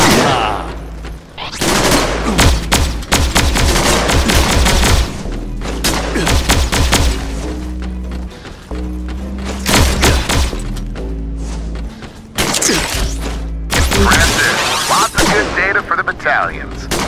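Bursts of gunfire from the G.I. Joe: Operation Blackout training mission, loud rapid volleys and heavy booming shots in clustered bursts with brief gaps between them.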